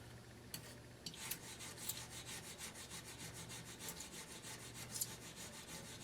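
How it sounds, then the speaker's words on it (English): Razor blade scraping rust from a surface, a quiet rasping rub with several sharper scratchy strokes, close up with no talk. "Might need the razor blade there."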